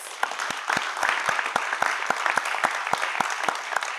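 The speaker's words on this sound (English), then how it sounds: "Let's give them a well-deserved round of applause." Audience applause for six participating school teams at a debating competition, a steady wash of many hands clapping with sharper individual claps standing out, sustained and fairly loud throughout.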